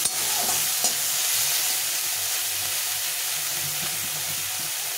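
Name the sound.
shrimp frying in a little oil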